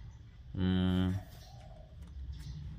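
A spotted dove gives a single clear, close coo about a second long, heard over quiet background clicking and low room noise.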